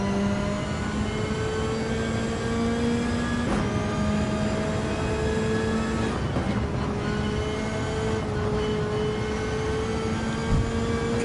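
Toyota Supra GT500 race car in Gran Turismo 7, its engine droning steadily with rising and falling pitch through gear changes, close and continuous, with no talk over it.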